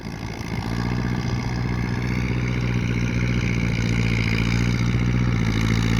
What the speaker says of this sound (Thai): รถไถใหญ่ย่ำเทือก แล้วก็ลูบเทือก